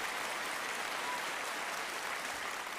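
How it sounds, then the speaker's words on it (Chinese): A studio audience at a televised Peking opera program applauds steadily to welcome a renowned wusheng performer, a dense, even wash of clapping with no voices over it. "我们用掌声欢迎西中路先生"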